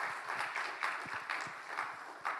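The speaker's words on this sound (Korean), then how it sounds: "우리 축복 한번 박수 시작. 박수." Church congregation applauding at a Sunday evening service, a steady patter of many hands clapping at moderate volume from across the room.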